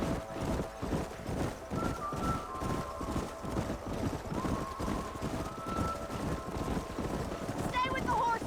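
Several horses gallop in the Western video game Red Dead Redemption, hooves pounding in a rapid, steady rhythm with a whinny near the end, under a drawn-out musical drone.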